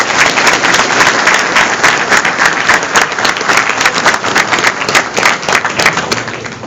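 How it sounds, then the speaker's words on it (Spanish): Sustained audience applause for an engineer after a talk about water in Ica, dense and loud throughout, with many overlapping claps and no voices standing out. "Le queremos pues el aplauso al ingeniero."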